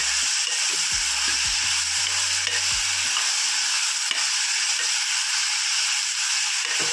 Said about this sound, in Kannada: ಹಸಿ ಬಟಾಣಿ ಹಾಕ್ತಾಯಿದ್ದೀನಿ ಸ್ವಲ್ಪ. ಎಣ್ಣೆ ಒಂದು ಸ್ವಲ್ಪ ಫ್ರೈ ಮಾಡ್ತಾಯಿದ್ದೀನಿ.